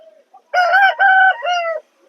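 A rooster at a rooster market crows loudly and close by, one long harmonic call in three drawn-out segments, with silence before and after.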